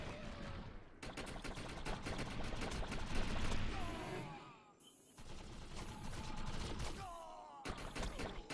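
Loud, dense automatic gunfire in the Xbox 360 game Defiance comes in long sustained bursts with brief gaps.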